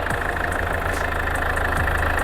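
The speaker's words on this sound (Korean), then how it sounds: "엔진 소리 일정합니다" A steady, close 2.2-litre SD4 diesel engine of a Land Rover Range Rover Evoque idling with an even, rumbling rhythm and no talk.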